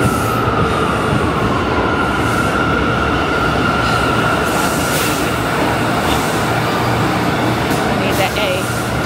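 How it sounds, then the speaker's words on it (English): A subway train rolls into the station with a loud, steady rumble and a drawn-out wheel squeal, filling the whole stretch under a constant hum of machinery. "Trying to see if the train is coming."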